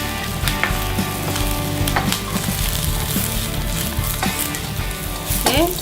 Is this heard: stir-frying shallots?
yes